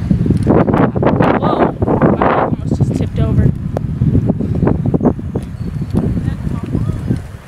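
Strong wind buffets the microphone with a constant low roar and rumble while riding a bike, as a person talks through it.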